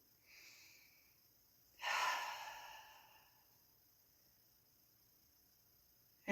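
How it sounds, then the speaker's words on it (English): A slow, deep inhalation during a guided relaxation exercise, a soft airy rush swelling for about a second and fading away, faint and close in an otherwise quiet space. "Take a deep breath in."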